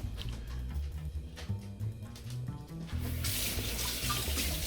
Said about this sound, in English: Let's wash out some fingers.